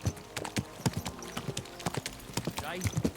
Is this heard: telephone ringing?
no